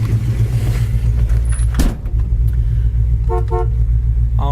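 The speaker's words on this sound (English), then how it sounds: "Horn works." A 1972 Ford Mustang Mach 1 idles with a steady low rumble, then its horn gives two short toots and a third brief one near the end, loud and close.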